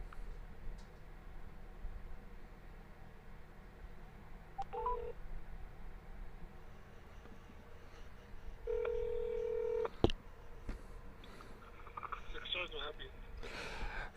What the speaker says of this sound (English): Okay, we hit dial.